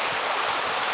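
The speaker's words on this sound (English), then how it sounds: "The waterfall there." Busay Lut-od Falls pours down in a constant, broad rush of water. The roar is close and loud, steady from start to finish, with no voices over it.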